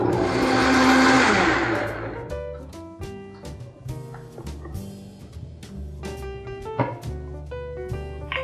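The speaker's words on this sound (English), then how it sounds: "We're gonna blend it up now." A blender whirs loudly for about two seconds, mixing a sweet vegan Valentine's brunch blend sweetened with maple syrup, then cuts off as music continues.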